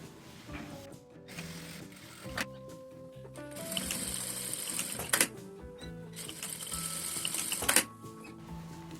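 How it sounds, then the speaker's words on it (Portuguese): Sewing machine stitching a straight seam on a fabric pouch lining, running in mechanical bursts with brief pauses and clicks between them, close and clear with no talking. "vou passar uma costura reta aqui, continuando"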